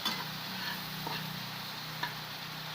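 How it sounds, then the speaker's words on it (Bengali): Turmeric fries in a pan with a soft, steady sizzle, joined by a few faint clicks of stirring, quiet and close. "একটু সামান্য হলুদ, এটাকে এরকম একটু করবেন, ভেজে নেবেন"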